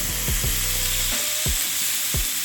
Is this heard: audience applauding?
no